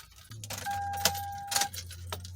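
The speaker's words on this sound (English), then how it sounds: "I'm gonna turn on the ignition switch here to move the shifter here" A key turns in the ignition switch of a Toyota Sienna, with metallic key-ring jangles and a couple of sharp clicks over a low steady hum, while a thin sustained chime tone sounds close by.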